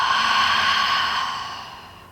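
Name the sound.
deep exhale during yoga breathing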